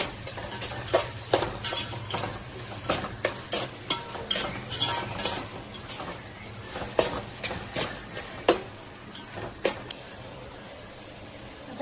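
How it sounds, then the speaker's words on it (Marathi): Finely chopped tomatoes sauté in oil in a pan with a soft steady sizzle, punctuated by repeated sharp scrapes and clanks of a spoon stirring against the metal. "टोमॅटो टाकले 2 मिनिट परतून घेतलेले बघा, थोडंसं तेल सुटलेलं आहे त्याला।"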